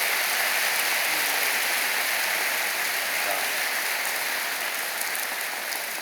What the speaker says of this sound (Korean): 나를 위해 박수 치면 안 되고 옆 사람을 위해서 박수 쳐주란 말이에요.